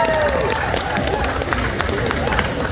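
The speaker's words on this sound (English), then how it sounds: "a round of applause for Miss Lilo Violet" Pageant audience at a tattoo expo pinup contest applauds a contestant, a crowd of clapping hands with some cheering and a voice over it, steady and fairly close.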